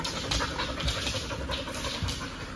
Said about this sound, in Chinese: 这是咱们狗舍的第三只金毛